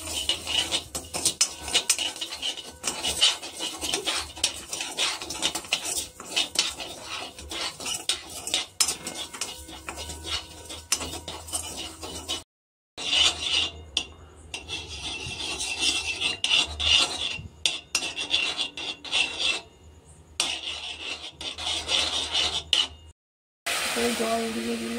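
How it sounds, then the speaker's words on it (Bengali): Spoon scraping and stirring 25 grams of sugar as it caramelizes in a kadai, a loud continuous rasping metal-on-pan sound with brief breaks, close up. "কড়াটা বসিয়েছি, 25 গ্রাম চিনি এটা ক্যারামেল করে নেব।"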